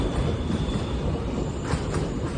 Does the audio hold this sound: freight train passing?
yes